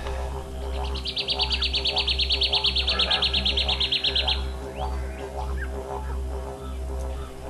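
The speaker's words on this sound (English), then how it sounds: "These are black cockatoos and their nest." Black cockatoos call near their nest in a park at Alice Springs, with a rapid rattling run of chirps lasting a few seconds over a constant low hum and scattered softer bird notes.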